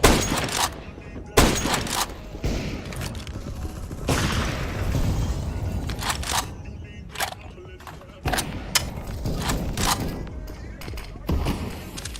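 A grenade blast in CS:GO during live competitive play, heavy booming bursts mixed with bursts of gunfire and clicking mechanisms, with voices talking over the loud in-game action.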